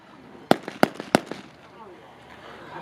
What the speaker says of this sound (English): There we go, and they fired.